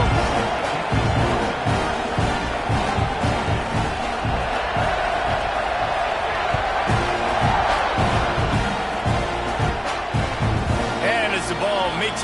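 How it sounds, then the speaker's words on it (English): Loud, sustained roar of a football stadium crowd at kickoff in an Alabama versus Texas A&M game, with a commentator talking over the broad, rumbling noise throughout. "You think this crowd's going to get loud when their defense comes on the field?"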